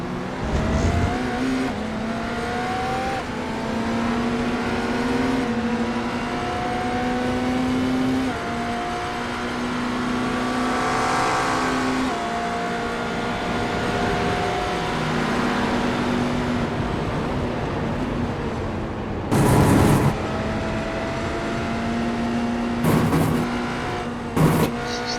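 Race car engines in an iRacing simulation, a continuous loud drone rising and falling through gear shifts, with brief bursts of louder noise near the end as other cars close in.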